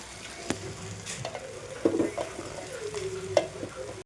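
Rice and cauliflower gobi are stirred in a pan, with scraping knocks of the spoon at irregular moments over a soft, steady sizzle of frying, close by and without talk.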